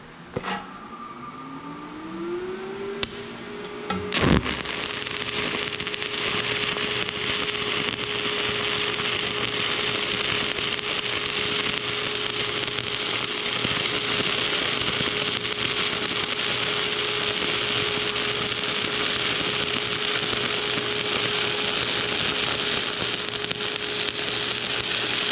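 Stick welding a flat pad with a 6013 rod on steel plate: after a few brief scratches to strike the arc, a steady, loud crackling buzz with a constant hum runs unbroken to the end, with no talking.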